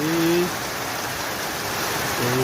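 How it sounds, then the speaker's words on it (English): Heavy rain pours down in Wabag, Papua New Guinea, a dense steady hiss on surfaces close by, with brief faint tonal sounds at the start and end. "And now it's big raining here in Wabag."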